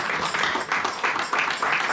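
A church congregation applauding and cheering together, a steady wash of many hands clapping with a loose pulsing rhythm throughout.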